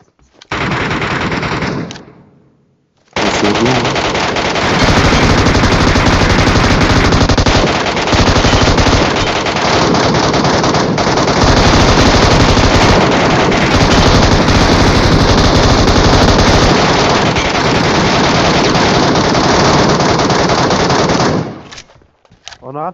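An M249 machine gun firing in PUBG Metro Royale, a short burst followed by a long, sustained stream of rapid automatic fire, loud and close, with faint voices talking in the background.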